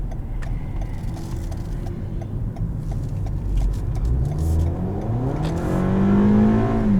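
2019 Toyota Camry XLE accelerating in Sport mode, heard from inside the cabin: engine note climbing steadily in pitch and loudness through the gears, over road and tire rumble.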